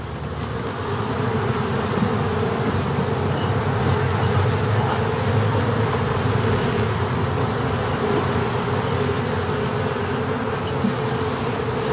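Honey bees from a queen mating yard hive, opened to show hatching brood, drone in a steady dense buzz that hangs close and loud throughout without any talking.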